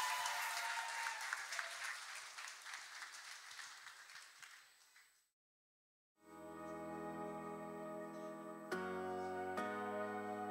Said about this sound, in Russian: Пожалуйста, поддержите его своими аплодисментами!